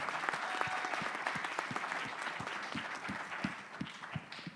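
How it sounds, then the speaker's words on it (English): An audience at an outdoor innovation pitch event claps after a presentation, a dense, steady burst of applause from a crowd that fades slightly toward the end. "Big round of applause"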